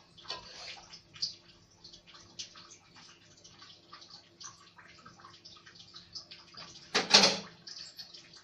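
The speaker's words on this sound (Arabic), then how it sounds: "تجيبي كده شوية مية كده في حاجة" Water is poured into a pan while breaded chicken breasts are cooked, heard as faint, scattered drips and splashes with one brief louder splash near the end.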